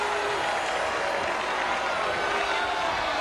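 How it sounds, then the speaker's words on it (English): A crowd cheering sound effect, a dense wall of roaring voices and applause that stays loud and steady throughout, with no gaps. "And the crowd goes wild."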